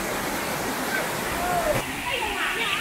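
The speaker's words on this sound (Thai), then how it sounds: "น้ำแรงดีคล้ายๆกับน้ำตกจอกกระดิน" Steady rushing water fills the whole clip, a constant loud roar of the Huai Mae Sai waterfall near Chiang Rai, Thailand, with a voice faintly present beneath it.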